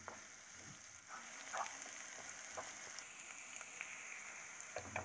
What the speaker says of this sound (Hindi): जब तक कि लहसुन प्याज और अदरक अच्छे से हल्के ब्राउन होने तक नहीं भून जाते हैं